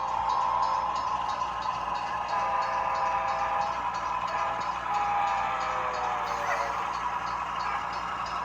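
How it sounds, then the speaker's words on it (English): HO scale model coal train rolling over a track crossover on a Seattle-themed layout, a continuous whirring motor drone with faint rhythmic wheel clicks and a steady mid-pitched hum throughout. "The train, as you see, is coming through that very famous crossover right in downtown Seattle at Pier 66"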